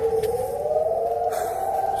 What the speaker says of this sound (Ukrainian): Лунає повітряна тривога.